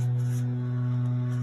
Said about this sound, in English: My neighbor is having her lawn mowed right now.